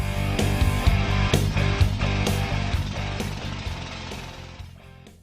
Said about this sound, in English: Eurotech drills injection holes to begin the process of stabilizing the outlet structure